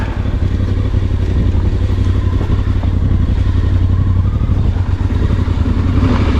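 A Voge DS625X motorcycle rides a green lane in Devon, its mid-pitched engine a steady, close, continuous drone with clattering and light revving throughout and no voices.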